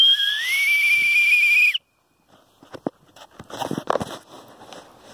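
An American Spirit whistle in its teacher form gives one sustained shrill blast for under two seconds, then stops, followed by quiet handling noises and faint rustling.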